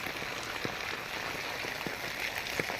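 Steady rain falling in rural Lodhika near Rajkot during the monsoon, a soft continuous hiss with scattered drop ticks, even and moderately faint throughout.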